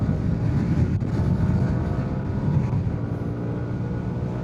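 Strong gusts roar against the microphone of a rider on a 2025 Yamaha R125 motorcycle in very windy conditions, a loud, steady buffeting rumble with the engine drone buried underneath.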